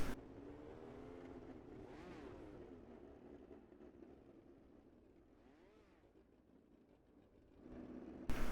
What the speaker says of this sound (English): First 2 cars coming out onto the racetrack right now.